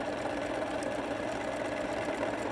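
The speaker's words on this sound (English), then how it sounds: "Now we want to sew them in the machine" Sewing machine running steadily as it stitches through fabric strips and squares, a continuous whirring hum at an even pace throughout.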